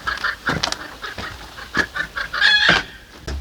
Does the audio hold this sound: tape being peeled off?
no